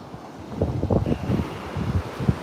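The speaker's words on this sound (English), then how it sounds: "the wind's coming from the back" Wind at Virginia Beach buffets the microphone in low, uneven rumbling gusts, loud and close, with no talking in between.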